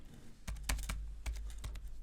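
Quiet typing on a computer keyboard, a handful of distinct key clicks in an uneven rhythm, some in quick pairs, over a low background hum.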